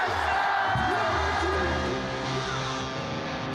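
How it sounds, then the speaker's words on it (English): A raucous crowd gathers in a ski race finish area on the evening before a slalom competition, with a dense, steady roar of voices and cheering throughout. "A raucous crowd gathers in the finish area for the bib draw ceremony"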